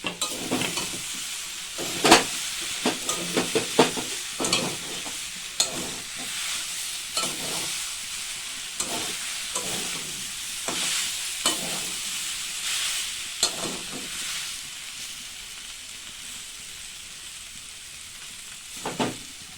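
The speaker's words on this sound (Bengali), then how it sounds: "কষাচ্ছি, একটু ধনের গুঁড়ো দিয়ে দিলাম, জিরের গুঁড়ো দিয়ে দিলাম" Jackfruit curry is sautéed with coriander and cumin powder, giving a loud, ongoing sizzle with repeated scraping strokes of a spatula against the pan that come every second or so and ease off toward the end.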